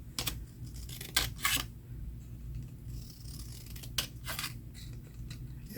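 Scissors snip thin paper strips for weaving, a few quiet close cuts spaced over a soft room hiss, with two brighter bursts of snipping early and another pair near the end.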